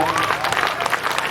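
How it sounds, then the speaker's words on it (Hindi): Loud, dense applause from an audience at an annual school function, a steady roar of clapping hands filling the whole moment without a break. "जोरदार तालियां"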